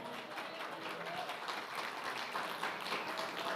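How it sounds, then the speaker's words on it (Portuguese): A church congregation applauds together in a steady, continuous patter that fills the room, fairly faint and distant, with some voices mixed in. "Aplauda o Senhor."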